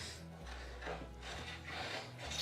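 A hand rasp files a slight chamfer along a wooden edge during a door restoration, giving steady, close scratchy strokes in a continuous rasping rhythm, with no voices.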